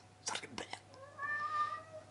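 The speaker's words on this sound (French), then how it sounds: "Le chat, tu fermes ta gueule, s'il te plaît." A house cat meows once, a drawn-out, fairly close call at moderate volume, heard indoors just after someone speaks briefly in French.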